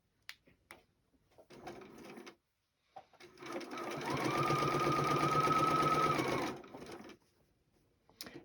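A Bernina sewing machine set to stitch length 4 sews a seam down on a pinned tea towel: short bursts of stitching, then a long steady whirring run of about three seconds, ending with brief taps, close and clear.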